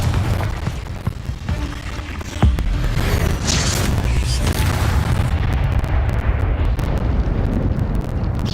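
A Confringo explosion spell cast in the Hogwarts Legacy video game: a sudden loud blast that swells into a long, rumbling roar and crackling debris, sustained for several seconds.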